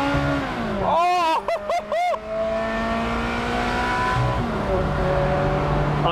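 A Ferrari engine on a motorway slip road, loud and close inside the car, with a steady roar broken around the second mark by quick rising revs or gear changes, then a sustained accelerating drone.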